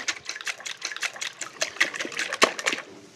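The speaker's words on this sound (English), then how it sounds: "So let's whisk this well." A whisk beats the egg mixture for an Italian-style quiche in a bowl, giving a quick run of close, uneven clicks and splashy strokes with no talking.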